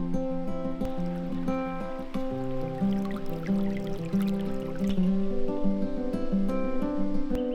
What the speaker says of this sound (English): there's also the stream that runs down beside the trail